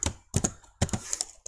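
Keys struck on a computer keyboard while C++ program code is written, coming in short clustered bursts of clicks with brief pauses, close and fairly loud.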